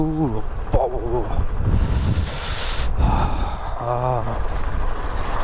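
Strong wind buffets the microphone in heavy gusts, with brief bits of voices breaking through the roaring noise.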